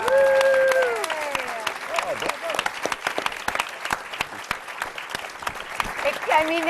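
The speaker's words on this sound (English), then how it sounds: "Are any of our writers here, by the way? Clap" A panel audience at the Paley Center claps for the writers of the TV series House, scattered, uneven hand claps heard close under a speaking voice and a brief laugh.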